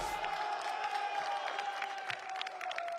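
A small press-conference crowd cheers and whoops at a fight event, with steady cheering and scattered clapping holding at moderate distance for a few seconds under a faint raised voice.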